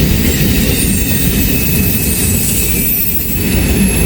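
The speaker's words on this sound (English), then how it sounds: "this train is going past" A train thunders past close by in Hamilton on a rainy morning, a loud, steady rolling roar with faint high wheel squeal and no voices.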